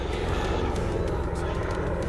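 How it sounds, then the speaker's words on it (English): Steady broadband rumble of a police helicopter passing overhead, loud and continuous throughout, with no clear speech over it. "police helicopter going over"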